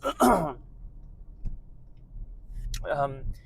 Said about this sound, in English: let me just clear my throat a moment